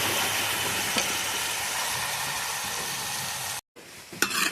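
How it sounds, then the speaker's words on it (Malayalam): Onions sautéing in a large pan with garlic and green chilli paste for a chicken curry give a close, steady sizzle with stirring, broken by a brief silent gap and a louder scrape near the end. "ഇനി അതിലേക്ക് നമ്മൾ ഉള്ളി ഇട്ട് വഴറ്റുകയാണ്."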